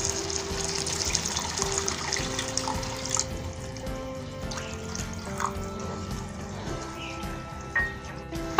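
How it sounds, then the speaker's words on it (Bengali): Water running and splashing into a pan of fully cooked-down spice masala for a potol and goat meat curry, a steady pouring gush with faint drips, no talk. "মশলাটা পুরোপুরি কষানো হয়ে গেলে, মানে তেল উঠে আসলে, পানিটা শুকিয়ে গেলে এর মধ্যে আমি খানিকটা পানি দিয়ে দিচ্ছি।"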